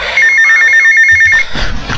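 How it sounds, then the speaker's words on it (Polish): Telephone ringing in the video game GTA Vice City, a rapid electronic trill repeating steadily for over a second, then cut off as game sounds and a low rumble take over. "Telefon?"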